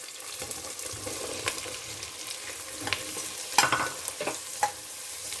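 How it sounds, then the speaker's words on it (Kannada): Mushrooms frying in a pan with a steady, soft sizzle, broken by a few sharp scraping stirs and clinks of a utensil near the end; no one speaks. "ಇವಾಗ ಇದಕ್ಕೆ ಮಶ್ರೂಮ್ ಹಾಕೋತಿದ್ದೀನಿ."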